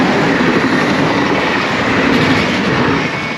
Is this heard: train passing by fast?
yes